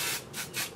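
Three quick hissing bursts of hairspray from an aerosol can, evenly spaced and close up, with brief gaps between them.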